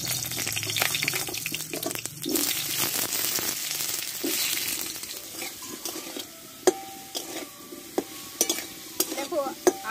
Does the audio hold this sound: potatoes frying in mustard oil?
yes